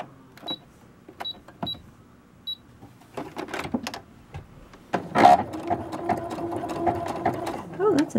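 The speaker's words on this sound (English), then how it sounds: "do the zigzag stitch on the sewing machine" A few short mechanical bursts, then a sewing machine running a zigzag stitch in a fast, steady whir. Voices talk over parts of it.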